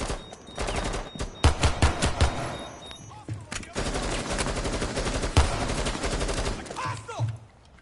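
Rapid bursts of pistol gunfire in Rainbow Six Siege, sharp close shots in clusters with short pauses, mixed with game effects and a brief voice under the shots.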